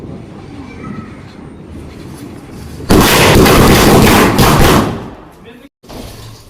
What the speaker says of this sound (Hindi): इधर की अगर लाइट बंद कर दे तो बच्चे फोड़ पटाखे।